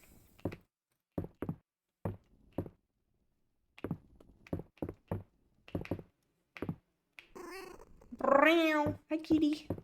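A cat in the farming game Fields of Mistria gives a short meow near the end, amid a string of quick, dry clicks and taps with a pause in the middle.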